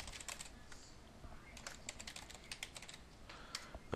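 Email address typed on a computer keyboard, close, quiet key clicks in uneven bursts with short pauses between groups of strokes.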